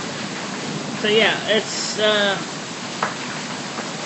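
Heavy rain pours steadily through a night storm, a dense continuous hiss across the whole stretch, with someone talking over it in short bursts.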